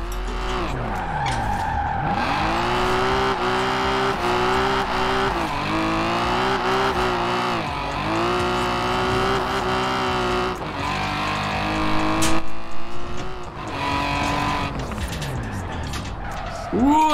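A 1988 BMW M5 in the Forza Horizon 4 racing game, engine revving up and down through gears with tire squeal as the wheels lock and the car slides; someone talks over it.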